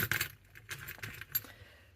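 A keychain's worth of everyday-carry keys and metal gear jangles and clinks in close, bright bursts, with a dense rattle at the start and scattered lighter clinks after, alone without talk.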